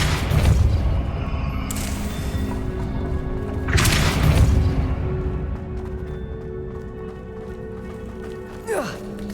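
Depulso spell casts in the Hogwarts Legacy video game, heard as two heavy booming bursts a couple of seconds apart over rumbling game ambience, with a short sharp sound near the end.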